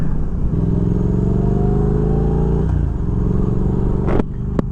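A Triumph Thruxton R motorcycle with aftermarket mufflers runs close by, its engine and exhaust giving a loud, steady rumbling drone that dips in pitch midway, with a couple of sharp clicks near the end.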